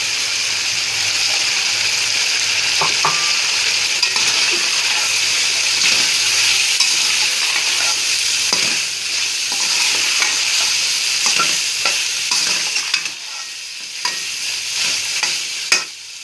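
Vegetables and potatoes stir-fried in a pan for vegetable fried rice: steady loud sizzling with repeated scraping and clicking stir strokes throughout, a few sharper knocks near the end, and no talk.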